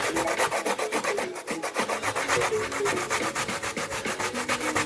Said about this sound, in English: So this is the last piece of the coconut, and this is how you do it.